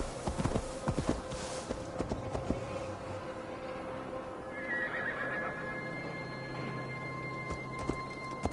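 A horse in the video game Assassin's Creed Valhalla gives a few clear whinnies and snorts amid clip-clopping hooves and footsteps, moderately close, with no speech over it.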